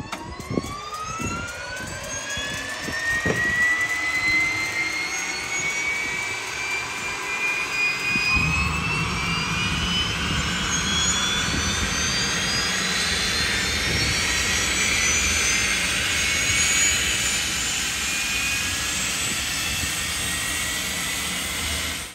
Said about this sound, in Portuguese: ouvir mais esse barulho dos aviões